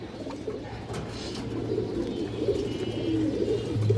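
Green-necked high flyer pigeons coo nearby in a low, continuous, throbbing drone that swells slightly toward the end, with no talking.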